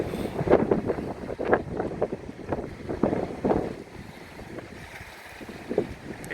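Wind gusts and waves slap against a boat's hull at anchor, the chain held by a bridle to the bow bollard, with irregular splashing bursts over a rushing background roar.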